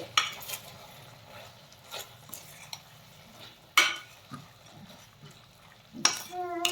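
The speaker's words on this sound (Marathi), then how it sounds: "यामध्ये छान असे मंचुरियन परतून घ्यायचे" Veg manchurian is stir-fried in gravy, with a spoon scraping and clinking against the pan in scattered strokes and a couple of sharper knocks over a faint sizzle.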